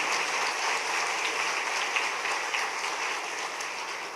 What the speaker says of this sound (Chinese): 我们拿到护理沟通内外科比赛全国第1名，我们鼓掌一下。